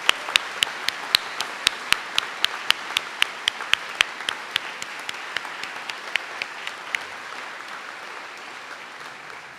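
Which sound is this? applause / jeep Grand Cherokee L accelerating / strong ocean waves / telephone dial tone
applause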